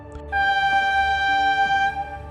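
A long sustained train whistle blows loud and close, a steady tonal blast of about one and a half seconds, used as an eerie effect in a spoken horror story, with no talk over it.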